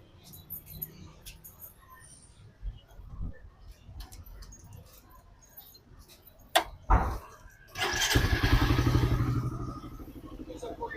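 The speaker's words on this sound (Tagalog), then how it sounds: "May start na po yung motor." A motorcycle engine starts up near the end, a sudden rumbling burst that settles into a steady idle after some clicks and handling noises, with a person talking briefly before it.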